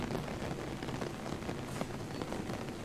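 Rain falls steadily in the video game Uninvited Guest, set in the Winchester mansion, a soft continuous patter of drops with a few brief louder taps and no voices.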